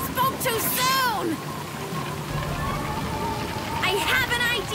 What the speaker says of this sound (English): It'll probably just be a light drizzle.